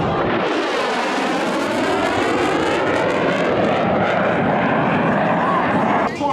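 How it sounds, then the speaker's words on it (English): An F/A-18 Super Hornet jet makes a high-speed pass at the Bremerton Airshow, a loud, sustained roar that fills the whole stretch and sweeps in pitch as it rushes by. "here it is, the Super Hornet high-speed pass."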